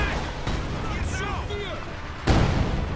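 Rocket barrage from the SC-76 launcher in the video game Company of Heroes 2, a burst of whooshing, whistling rockets streaking in, then a heavy boom of impacts near the end, under steady battle din.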